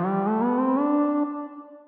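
A Logic ES1 synthesizer patch for a kizomba, kompa or zouk beat sounds one warm, mellow harmonic note with slight pitch movement and an echoey tail, decaying within two seconds, alone and fairly loud.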